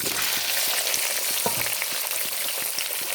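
Pork frying in hot oil with garlic paste, a loud, dense, continuous sizzle with faint scraping stir strokes ticking underneath, close up and with no voices.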